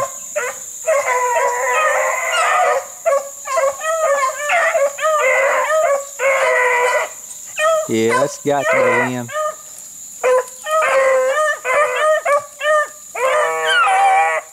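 Hunting dogs bay and howl during an opening-day rabbit hunt in Alabama: loud, repeated rhythmic baying from several dogs with brief pauses and a higher whimpering howl in the middle, while someone speaks briefly.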